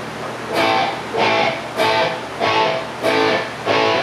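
An electric guitar played through a Marshall JMP-1 preamp rig with IntelliFX and delay: loud strummed chords repeat about once a second, each swell ringing out and blending into the next.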